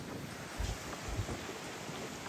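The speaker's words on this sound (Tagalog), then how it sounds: "Ang lakas ng hangin." Strong wind buffets the microphone in low, rumbling gusts, with a steady roar and no voices.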